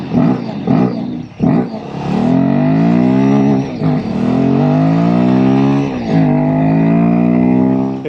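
A Royal Enfield Himalayan 452 motorcycle is ridden, its engine loud and close, rising through the gears and falling again with steady, throaty acceleration.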